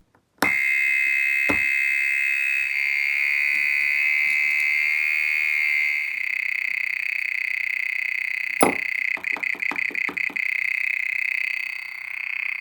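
A DIY 555 timer lo-fi synth sounds through a piezo as a loud, steady, shrill buzzing tone that shifts slightly in pitch, cut by a few clicks and ending in a stuttering burst of pulses.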